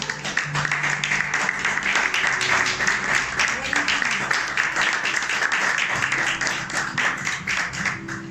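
A church congregation at a Spanish-language Bible study program applauds, with dense, sustained clapping at a steady level and a voice briefly heard beneath it.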